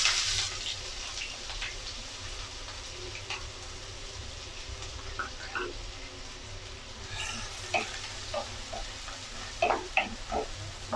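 Chopped onions sautéing with cumin in a pan, a low steady sizzle with scattered scraping and stirring clatters, more frequent toward the end; no talk.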